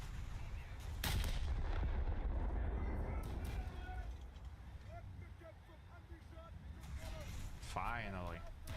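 Naval guns firing in War Thunder, booming shots amid constant engine rumble and sea noise, with someone talking over the battle.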